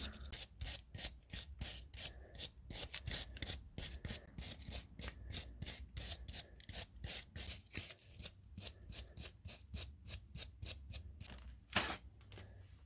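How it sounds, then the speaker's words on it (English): Quick, rhythmic bristly scrubbing as a brush cleans a car brake caliper bracket, dozens of short close strokes at a steady pace, fairly quiet, with a sharper knock near the end. "Now you just have to clean the caliper bracket with a brush."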